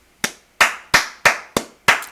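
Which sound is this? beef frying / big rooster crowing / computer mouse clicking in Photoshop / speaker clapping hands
speaker clapping hands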